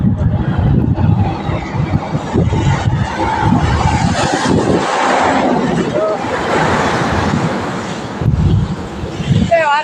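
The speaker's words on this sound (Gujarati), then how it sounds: "તો મિત્રો ભારતમાલા રોડ પર ગાડી ચાલુ છે હાલ." A car driving along the Bharatmala road, its rumble mixed with wind buffeting the microphone, rising and falling as it rolls on, while a voice talks intermittently over it.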